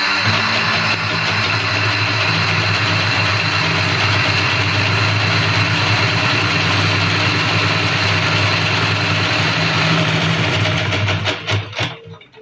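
A Singer sewing machine runs steadily while winding a bobbin, a continuous close whirring hum that holds even for about eleven seconds before slowing and stopping with a few soft rattles.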